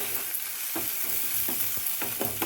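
Onion and green chilli fry with chana dal in oil, a bright, steady sizzle close by, punctuated by several soft knocks of a spoon stirring the pan.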